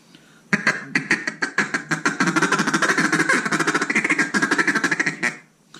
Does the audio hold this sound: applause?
no